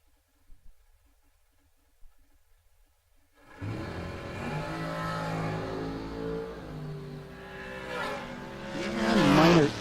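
A dragster race car at a bracket-series drag strip starts after a few faint knocks, then roars loudly and continuously, its engine note swelling and rising toward a strained peak at the end.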